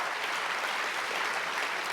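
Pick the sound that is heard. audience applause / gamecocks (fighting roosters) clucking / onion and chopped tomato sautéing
audience applause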